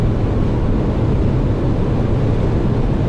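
A steady, loud roar of wind and road noise fills the cabin of an Opel Astra 1.4 turbo running on LPG as it accelerates at speed, with no pauses and no talk.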